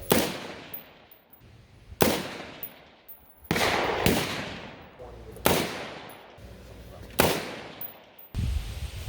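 Five sharp, loud rifle shots from a Triarc Systems TSR 15S ring out one at a time, spaced about two seconds apart, each with a short echoing decay outdoors.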